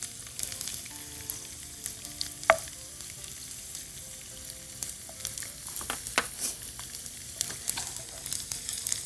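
Chopped garlic sizzles steadily in hot oil in a pan, a close, continuous crackle with occasional stirring scrapes and clicks, and no talking.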